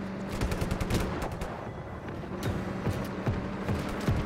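In the open-world action game Just Cause 3, allied fighters fire a vehicle turret and guns from the windows. Rapid bursts of automatic fire crackle at mid distance, mixed with intermittent heavier shots and vehicle rumble, with no talk.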